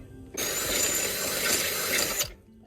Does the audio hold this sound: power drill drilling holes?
yes